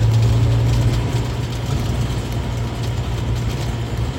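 An Isuzu Panther Hi Sporty diesel engine idles steadily with a low, rough rumble and clattering noise throughout, close by and fairly loud.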